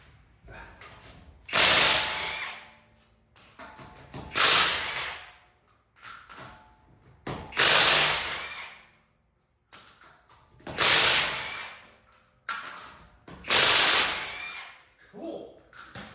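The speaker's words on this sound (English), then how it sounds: "So 10 lug nuts zipped off so far." An inexpensive Seesii 1/2-inch cordless impact wrench, rated 479 ft-lb, spins lug nuts off a wheel in repeated loud bursts of rapid hammering rattle, each lasting a second or two, separated by short pauses with softer mechanical clatter.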